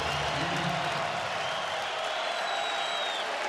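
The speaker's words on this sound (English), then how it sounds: "listen to this crowd" Big basketball arena crowd roaring and cheering for the Lakers, a dense, sustained wash of voices and whistles with no break, loud and close throughout.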